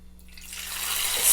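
Ghewar batter poured carefully into hot oil, a hiss of frying that swells steadily into a loud, close sizzle with no voices.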